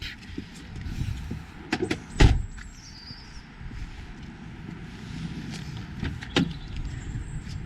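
A Peugeot 306 turbo diesel engine with 173,000 miles, unused for months, cranks and catches, followed by a steady low idle rumble with a few clanks and knocks, fairly close.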